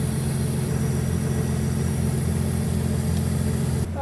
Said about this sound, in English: So this thing's stumble idling too.